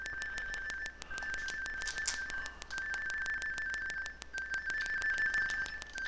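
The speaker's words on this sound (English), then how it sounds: "Oh, somebody's getting a phone call." A phone rings with an incoming call, its repeated electronic tone pulsing in a rapid regular pattern of short bursts, moderately loud and continuous throughout, with no talk.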